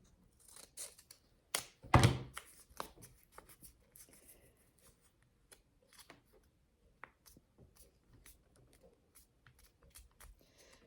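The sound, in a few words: cutting folded paper with scissors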